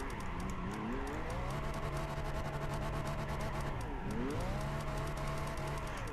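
A Nissan Skyline drifting in Gran Turismo 5, its engine holding a steady high whine that dips and climbs again with a gear or throttle change while tyres squeal continuously, loud and close.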